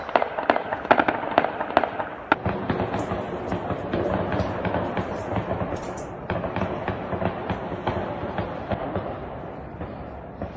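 Air defense fire at night: dense crackling bursts and repeated sharp bangs, like rapid gunfire and explosions, continuing steadily with a distant, echoing rumble throughout.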